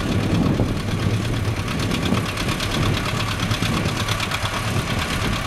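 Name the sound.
old tractor engine chugging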